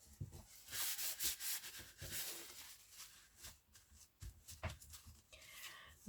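A paper flap on a handmade multi-pocket envelope is pressed and smoothed down, giving close, soft rubbing and sliding strokes that continue in uneven waves.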